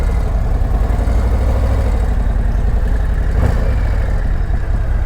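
A Harley-Davidson motorcycle engine rumbles loudly and close as the rider sets off, a deep throbbing low-frequency pulse with a brief surge partway through.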